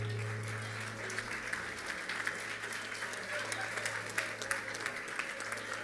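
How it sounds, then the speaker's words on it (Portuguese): A congregation claps to welcome people at a church baptism night, with steady applause running throughout under a constant low hum from the room's sound system. "Vamos receber nossos irmãos com a salva de palmas."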